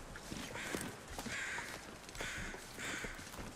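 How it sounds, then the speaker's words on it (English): Crows cawing in the snowy wilderness of The Long Dark, a few harsh calls repeating in bursts over steady wind-like background noise, somewhat distant and no voices. "Can't see where the crows are."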